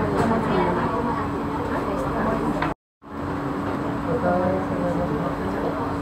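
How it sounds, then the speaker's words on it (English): An MRT train rides along the North South Line with a steady rumble and cabin hum, briefly cut by a dropout midway, and continues evenly afterward. "Who's driving this train?"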